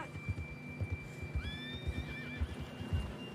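A horse in the video game Red Dead Redemption 2 gives a clear, fairly quiet whinny midway through, over a steady rhythm of hoof clip-clops and soft ambient hum, with no talking.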